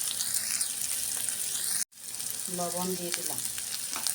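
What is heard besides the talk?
spices frying and being stirred in a pan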